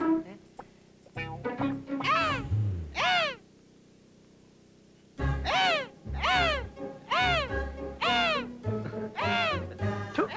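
A man in a film scene imitates a crow, letting out repeated harsh cawing calls in two bursts separated by a brief silence, loud and close.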